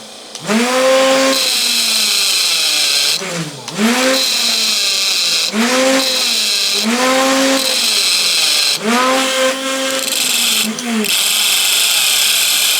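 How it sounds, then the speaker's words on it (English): Thin cutoff wheel on a flex shaft texturing metal for jewelry, whining in repeated bursts that spin up to a high pitch, hold, and dip as it bites, with someone talking over it. "Let's try the thin cutoff wheel."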